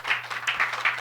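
A short burst of applause from a church congregation during a Sunday service, steady crowd clapping with a slight swell, heard alone without talk.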